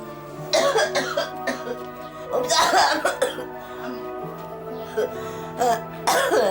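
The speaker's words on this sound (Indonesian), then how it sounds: "ini kenapa sih batuknya ndak sembuh-sembuh?" Several harsh coughs from a persistent, unhealing cough burst out in separate fits over a steady humming, tonal background.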